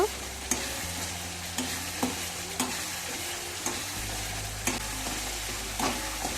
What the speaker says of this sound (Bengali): টমেটোটাকে ভালো করে ম্যাশ করে নেব